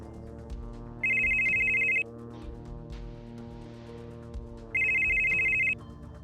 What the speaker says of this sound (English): your phone will ring.